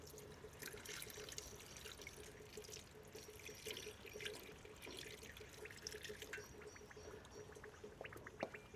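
Rainwater pours steadily into a dry potted plant, the soil fizzing and bubbling as air escapes, with small crackles and drips over a constant trickle, close and fairly quiet.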